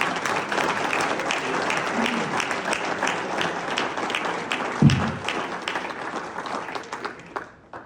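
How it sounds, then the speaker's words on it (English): Applause welcoming Austin Neal, a St. Richard's graduate, as a speaker at a school celebration: sustained crowd clapping with a brief thump midway, fading and thinning out at the end. "Give him a round of applause."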